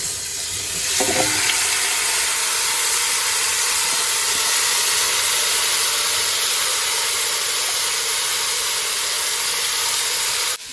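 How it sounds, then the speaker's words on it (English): Marinated paneer, onions and pepper hitting a hot pan with whole spices for a paneer biryani, setting off a loud, sustained hissing sizzle that starts with a burst and holds steady to the end. "And then I add the marinated paneer, onions and pepper."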